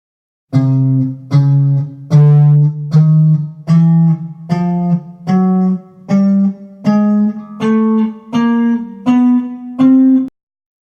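A plucked guitar plays single notes one after another, climbing steadily in small half-step increments, each note ringing briefly before the next, with no talking.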